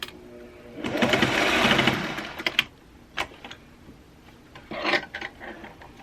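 A sewing machine runs in a short fast burst while tacking fabric for a face mask, followed by a few scattered clicks and handling knocks close by.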